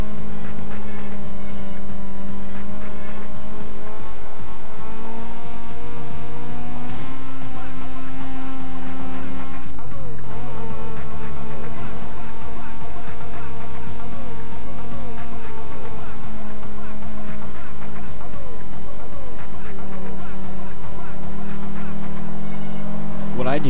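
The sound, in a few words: racing car engines in video game Need for Speed: Most Wanted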